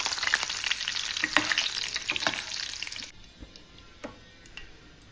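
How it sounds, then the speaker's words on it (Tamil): Curry leaves crackle and sizzle vigorously in hot oil for a few seconds before the frying abruptly quiets to faint, scattered pops and sputters, with no talking. "இதுக்கு கொஞ்சம் கருகப்பிள்ளையும் பொறிச்சு எடுத்துக்கிறேன்"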